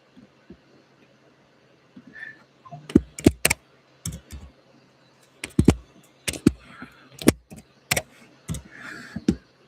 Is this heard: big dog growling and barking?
no